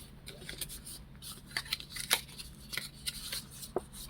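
Scissors snipping through paper while trimming pieces for a handmade pocket book, a series of short crisp cuts and rustles at close range, quiet and uneven in rhythm.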